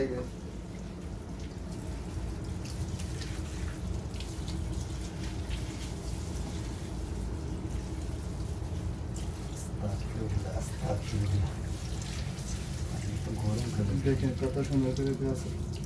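Water splashes and pours steadily over trees being washed outdoors, a continuous wet rush with scattered drips, with voices murmuring faintly in the background.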